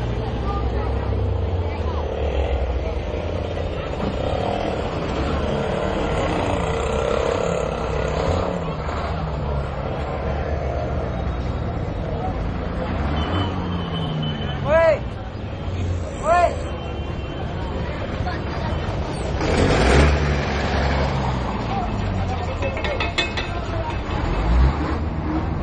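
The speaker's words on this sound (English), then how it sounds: "this is one of the biggest bus stand of Ahmedabad" Busy city bus station in Chandkheda, Ahmedabad: a continuous din of idling and passing buses and traffic mixed with crowd murmur, with someone talking over it and occasional horn-like tones.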